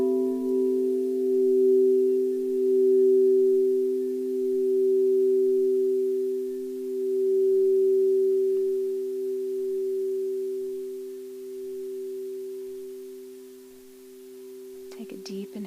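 Crystal singing bowls tuned to 432 Hz ring in long sustained, overlapping tones that swell and fade gently, with a brief faint rustle near the end.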